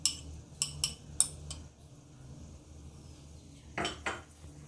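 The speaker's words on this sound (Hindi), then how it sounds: "अब मैं इसे अच्छी तरह मिक्स कर लूँगा।" Beaten egg is added to 300 grams of chicken and mixed in a bowl, with a few light clinks and taps of utensil against the bowl, then soft stirring and two more knocks, fairly quiet.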